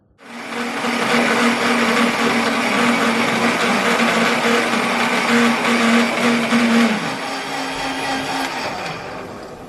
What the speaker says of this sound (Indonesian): Usai di blender dan tercampur dengan air, hasilnya langsung dimasukkan ke dalam ember besar